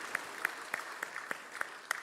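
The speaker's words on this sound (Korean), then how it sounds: "하나님께 영광의 박수 올려드립니다" Applause during a Sunday church worship service: quiet, distant clapping heard as sparse, evenly spaced sharp claps, about three per second.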